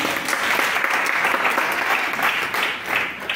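A church congregation bursts into sustained, dense applause, steady and full throughout, with a few faint voices mixed into the clapping.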